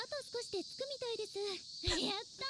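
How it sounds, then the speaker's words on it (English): A steady, high cicada drone buzzes in the background while someone talks in the foreground. "the same soundbite of the cicadas just chirping"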